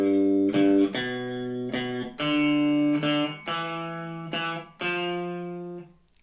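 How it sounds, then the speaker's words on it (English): Electric guitar playing a piano-style boogie blues shuffle, a series of sustained, slightly distorted chord stabs in a loping uneven rhythm, close and clear with no talking. "Typical blues shuffle."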